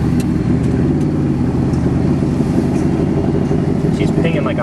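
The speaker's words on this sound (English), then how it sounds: "She's pinging like a mastiff too. You hear that?" A 383 stroker engine idles and runs roughly with a steady, close mid-low rumble and faint intermittent pinging from detonation, and people talk over it.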